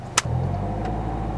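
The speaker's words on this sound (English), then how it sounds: "towards the end of letting out the clutch, use more gas" A manual-transmission car pulls away as the clutch is let out, a steady low engine drone holding through the short moment after a brief bump near the start, close by with no talk.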